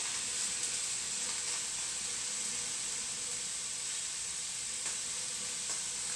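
Carrots sizzling in a hot pan, a steady, close hiss of frying that holds evenly throughout with faint crackles and no talking.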